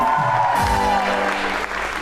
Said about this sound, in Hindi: फिर आज आप हमारे आए हुए मेहमान के लिए तालियां बजाएं।